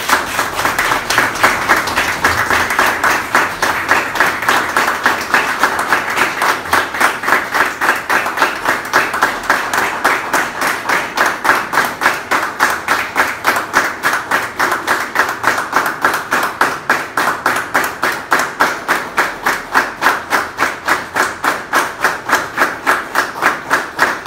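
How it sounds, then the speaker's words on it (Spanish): An audience at a book launch claps in honour of the late author, a long, loud applause that settles into steady rhythmic unison clapping, evenly paced beats continuing for over twenty seconds. "yo pediría que le demos un fuerte aplauso"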